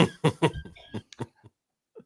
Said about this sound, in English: Who is coughing?